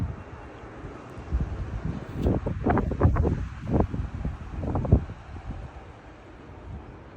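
Strong wind gusts of about 35 blow through trees, including a large Chinese elm, on a morning in Frisco, Texas, as a rising and falling roar with rustling and buffeting on the microphone.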